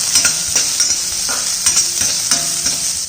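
Steady, dense sizzling of vegetables, including finely chopped beans, stir-fried in a hot pan for wheat noodles, with a few soft stirring scrapes and clinks recurring through the clip.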